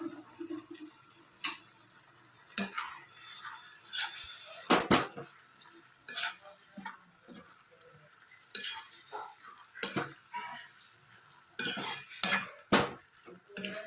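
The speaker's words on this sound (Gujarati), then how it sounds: "હવે આપણે અંદર વટાણા નાખી દઈએ." Peas tipped into a pan of curry and stirred, with sharp clinks and scrapes of a utensil against the pan coming in irregular bursts over a soft sizzle, close up with no talking.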